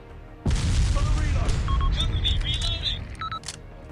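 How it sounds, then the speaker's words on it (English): Sudden loud burst of gunfire and booming impacts in the video game ARMA 2, sustained rumbling with sharp electronic beeps and tones layered over the top. "Gunfire coming in."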